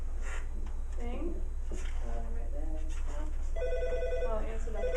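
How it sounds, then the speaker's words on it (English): An indoor telephone rings in repeated short bursts beneath a person's ongoing speech, the ringing clearest near the end and moderately loud. "I'll answer that phone."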